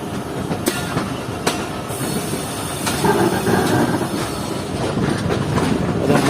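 The Jaffer Express rumbles close by as it switches from the loop line onto the main line, wheels clacking over points with sharp clicks and a steady rolling roar.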